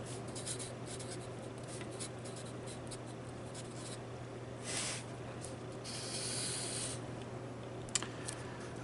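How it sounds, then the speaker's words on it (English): Pen strokes scratch steadily across a surface while a calculus definition is written out, close but quiet over a constant low hum, with short rubbing and scraping bursts and no talking. "So let's go ahead and write that out."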